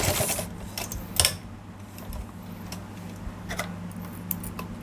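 A home sewing machine stitches elastic onto fabric for a dhoti salwar, with a steady low motor hum and a few sharper clicks and bursts of needle rattle, close up and without talk.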